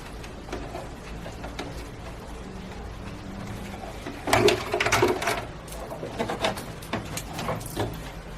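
A sewing machine stitches elastic onto a trouser waistband, running in a steady whirring burst midway with lighter mechanical clicks around it, fairly quiet and close.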